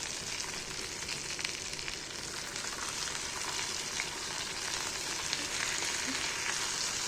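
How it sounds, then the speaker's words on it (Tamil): Pieces of fish shallow-fried in a little oil in a pan for a simple Tamil fish fry give off a steady, dense sizzle and crackle that holds evenly throughout, close and moderately loud, with no talking. "இப்போ மீன் வறுத்துட்டேன் இப்போ மூணு பீஸையும் வறுத்துட்டேன்"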